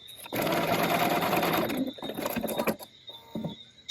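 A sewing machine stitches fabric for a button-up shirt in a sustained loud whir of rapid needle strokes, then stops and restarts in shorter bursts, heard close up with no talking.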